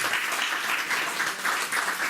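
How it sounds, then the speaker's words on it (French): An audience at a lecture applauds a singer, producing even, continuous clapping from a medium-sized crowd, full and steady with a slight pulsing swell, and no voices over it. "qu'on applaudit"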